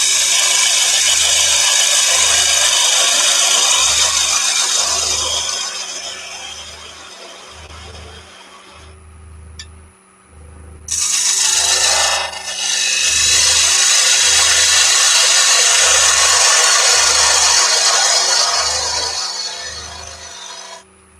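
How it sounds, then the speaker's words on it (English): Parting tool squaring the ends of a turned wooden box on a lathe, a loud close scraping cut over the motor's steady rhythmic hum, briefly dropping out midway before resuming, with no talking. "onto the parting tool just to square the ends off"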